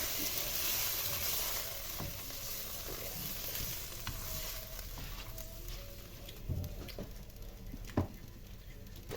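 Rice is stirred into a sizzling frying-pan mixture for fish-and-rice sayadieh, with soft scraping strokes over a steady quiet sizzle and a few sharper knocks of the utensil against the pan.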